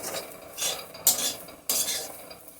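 Taro (bishkochu) fries in a pan for a vegetarian dish while a utensil stirs it, making repeated scraping bursts and clinks against the metal over a faint, low sizzle.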